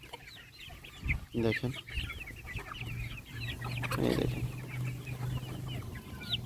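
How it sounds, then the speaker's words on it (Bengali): Sonali breed chickens, parent stock kept for egg laying, cluck and chatter in and around a coop. Someone speaks briefly over the steady, close flock noise and a low background hum. "ঘরে মুরগি আছে, কিছুটা বেরিয়ে এসেছে"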